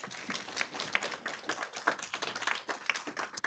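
An audience at a public commissioners' meeting claps in a short burst, a dense patter of close hand claps rising and falling for a few seconds with no talk.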